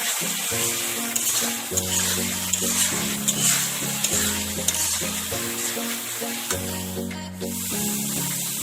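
Mutton curry masala with cumin and chili paste sautés in hot oil in a pan, giving a steady close sizzle and stir throughout, with tonal background music running underneath.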